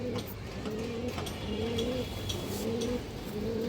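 A big-headed silver male pigeon coos close by in a string of about five repeated, rolling coos with short gaps between them.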